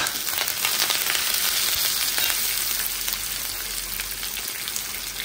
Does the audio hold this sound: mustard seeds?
yes